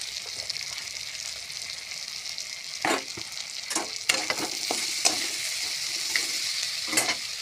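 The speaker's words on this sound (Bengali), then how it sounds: "মাছ ছেড়ে দিলাম, নাড়াচাড়া করে মিক্স করবো বন্ধুরা" Mocha fish fries in a pan with potatoes and yard-long beans under a steady sizzle, broken by clattering stir strokes from a spatula. No voices are heard.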